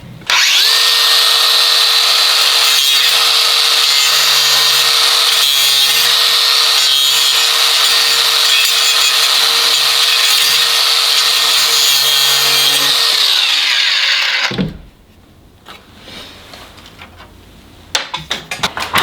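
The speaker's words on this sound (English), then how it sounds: "I need to go ahead and cut that nail out first. So let me get my grinder and do that." An angle grinder cuts a nail out of a wooden board while a lumber cart is being upgraded. A loud, steady, high whine runs for about fourteen seconds, then cuts off abruptly, leaving quiet handling noises.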